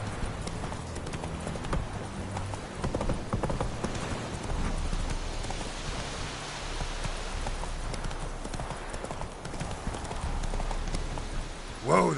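Hooves of Roach, a horse in a video game, clip-clop steadily at close range, a continuous run of hoofbeats over a constant background bed for the whole stretch.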